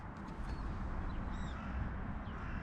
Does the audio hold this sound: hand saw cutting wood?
no